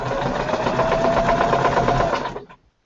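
A sewing machine stitches a seam through fabric, whirring steadily and loud and close for over two seconds before it winds down and stops.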